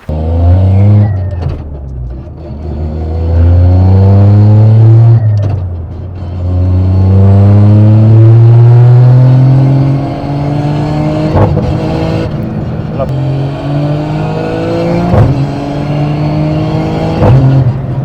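A daily-driven Toyota GR Yaris with a sequential gearbox accelerates hard, its loud engine climbing through several rising revs with abrupt quick shifts between them, close and dominant.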